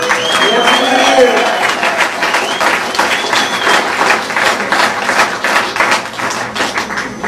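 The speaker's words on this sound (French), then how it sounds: "Donc, vous l'applaudissez aussi, hein?" An audience applauds at a live show, with dense clapping that swells and then thins into scattered claps while voices carry on underneath.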